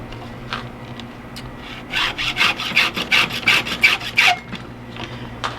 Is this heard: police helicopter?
no